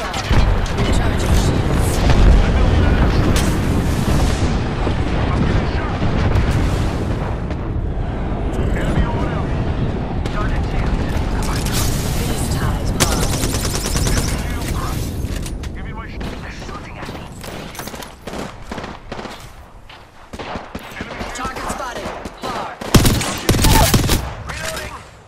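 Dense gunfire and explosions from the Apex Legends battle royale shooter, with sustained automatic bursts, booming blasts and sharp near impacts throughout, thinning briefly near the end before more crackling shots and a loud burst, with in-game voice callouts over the fighting.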